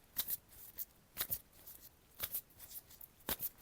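Tarot cards riffle-shuffled in quick bursts, several crisp fluttering flurries spaced through the clip, close and fairly quiet, with no voices.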